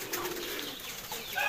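Pigeons kept by a fancier in Jhelum coo softly while wings flap in a brief flurry, close and continuous.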